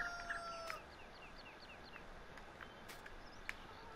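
Chickens in Farming Simulator 19 cluck softly in the background. A few brief chirps and clucks come early on, then sparse faint calls over quiet game ambience.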